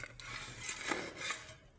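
Soil sample being mixed by hand in a tray in a civil engineering lab for the quartering method, a steady gritty scraping and rattling close up, with no talk.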